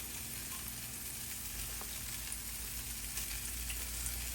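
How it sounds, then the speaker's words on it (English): Cheese sizzles and fries steadily in a hot pan, a dense, even crackle that stays close and constant with no talking over it. "Cheese down in the pan, that's starting to melt."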